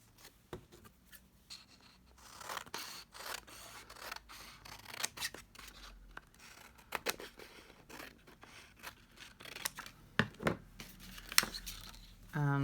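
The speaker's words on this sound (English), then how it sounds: "cut a piece of card or paper the same size as this" Scissors snip through card or paper while a picture frame is being made, giving irregular crisp cuts with rustling and handling of the sheet, fairly close and quiet, with no talk.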